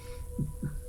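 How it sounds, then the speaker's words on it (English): Two soft, low heartbeat thumps over a steady hum, a sound effect for a magical crystal heart in a fantasy tabletop game session, fairly close and without voices. "You can feel this crystal heart beating directly in front of you."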